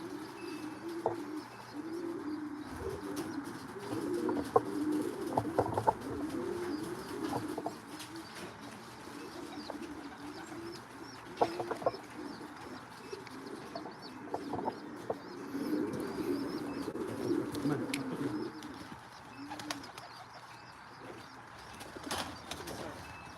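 Racing pigeons coo at their loft in a steady, overlapping chorus of low throaty calls, with occasional wing flutters and scuffles close by.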